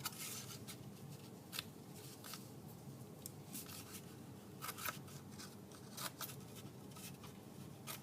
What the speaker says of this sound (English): you can just cut little triangles from your paper.